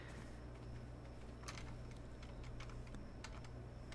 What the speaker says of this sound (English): I got a new keyboard, and I keep hitting all the wrong buttons